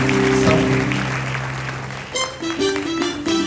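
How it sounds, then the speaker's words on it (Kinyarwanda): An audience claps at a farewell church gathering, loud at first with musical tones underneath, then thinning into scattered, uneven bursts. "Tugukomeye amashyi menshi tugushimira."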